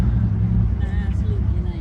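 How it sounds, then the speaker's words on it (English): Orange 1956 car rolling in at an outdoor car show, a steady low engine rumble with a brief rising whine, close by amid crowd chatter. "Orange 56 just rolled in too here."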